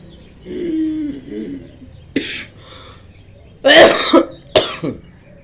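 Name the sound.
coughing during yoga practice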